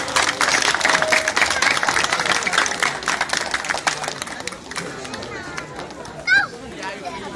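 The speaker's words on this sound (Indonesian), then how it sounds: "Beri tepuk tangan yang meriah." At an outdoor neighbourhood night gathering celebrating Indonesian Independence Day, a crowd applauds with dense, continuous clapping that slowly thins out, while voices and chatter mix in.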